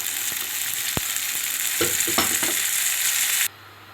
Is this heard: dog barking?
no